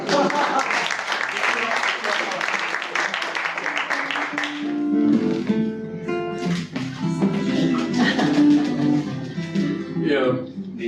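At an improvised comedy show, a theatre audience gives steady applause that fills the first several seconds, then fades under raised voices and musical tones.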